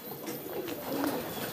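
Young high-flying pigeons cooing softly while being packed for shipment by train, a short close murmur of coos over a quiet room background.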